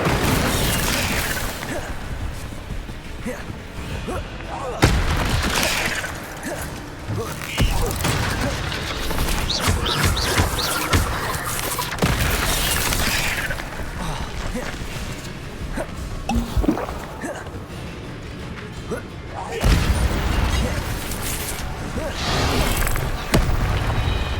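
The Incendio fire spell is cast repeatedly in Hogwarts Legacy, producing loud fiery bursts and booming pops amid ongoing combat and mechanical game effects, with scattered heavier blasts over several seconds.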